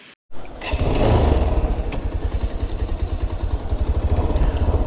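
A budget motorcycle starting up and running on a ride around Munnar, its engine catching after a brief gap and then settling into a loud, steady pulsing throb up close.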